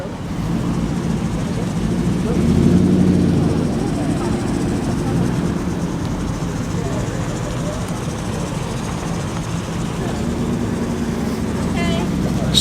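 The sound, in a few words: classic sports car engine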